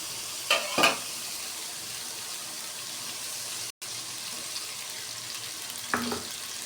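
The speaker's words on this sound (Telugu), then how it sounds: "అల్లం కూడా కొంచెం పచ్చి వాసన పోయే వరకు వేయించుకోవాలి" Ginger frying in a pan for fish curry already seasoned with turmeric, salt and chilli powder, a steady close sizzle broken by a few brief scraping stirs near the start and end and one short dropout, with no speech.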